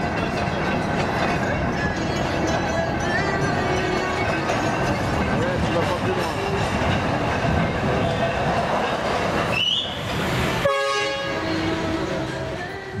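A train runs along a railway line in the Ecuadorian Andes near Riobamba, a steady rumbling roll that continues for most of the run, then breaks off abruptly near the end before a quieter stretch resumes.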